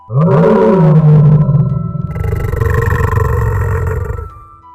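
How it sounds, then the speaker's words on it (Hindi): A cartoon lion lets out a loud, drawn-out angry roar with a deep growling onset, followed by an echoing, rumbling tail as if bouncing back from inside a well. "शेर ने गुस्से में आकर जोर से दहाड़ मारी"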